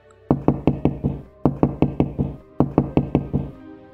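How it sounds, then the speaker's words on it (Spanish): Someone knocks insistently on a door: three close, loud bursts of rapid knuckle raps, about five or six knocks each, separated by short pauses. "tocaron a mi puerta insistentemente."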